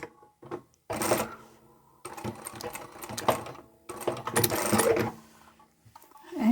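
Sewing machine stitching small tacking spots on a beanie cap, running in several short fast bursts separated by brief pauses, close and fairly loud.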